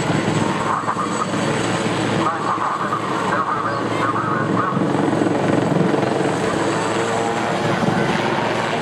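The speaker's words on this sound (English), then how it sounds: "these two frontline Lynx Mark 8 aircraft, we can still reach over 150 miles an hour" Two Lynx Mark 8 military helicopters fly past at a seaside air show, their rotor and engine noise forming a loud, steady, continuous roar throughout, with a commentator's voice faintly beneath.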